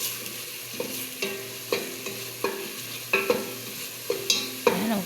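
Chicken pieces frying in a hot pan while a spoon stirs them, giving repeated scraping strokes roughly every half second over a steady low sizzle, close and clear with no talking.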